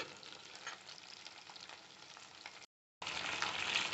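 Pieces of black pepper chicken fry in a hot pan with a steady, dense sizzle, broken by a short gap of silence before the crackling resumes just as loud.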